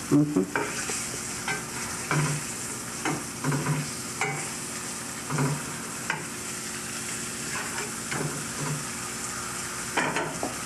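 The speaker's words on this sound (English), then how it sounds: "So you're just sautéing the veal a little bit" Veal sautés in a pan with a steady bright sizzle, broken by repeated scraping and stirring strokes at an uneven rhythm, close and fairly loud throughout.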